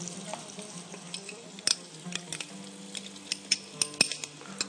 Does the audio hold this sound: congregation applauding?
no